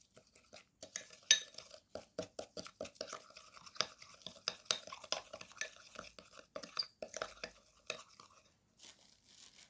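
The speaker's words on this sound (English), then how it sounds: "Now mix well the ingredients." Quick scraping and clinking of a utensil stirring Dove shampoo and other ingredients in a small bowl, in an irregular rhythm of soft taps, close by with no talking.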